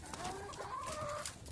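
A backyard chicken gives several short, quick clucks at close range, fairly faint, with no talking over it.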